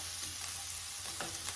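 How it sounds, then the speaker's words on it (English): Onions sizzle in hot oil in a pan over medium heat, a steady close hiss of frying with faint crackles and no voices. "You hear that sizzle? That means your oil's hot enough."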